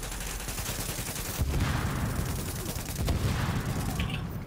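Gunfire in The Division video game, a few sharp shots and bursts amid a dense, noisy game soundscape, fairly quiet overall.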